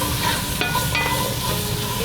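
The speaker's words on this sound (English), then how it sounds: "I just want to sweat the onions." Onions sweat in a pan for chicken coconut red curry, giving a soft, steady sizzle with faint stirring scrapes, close and continuous, with no voices.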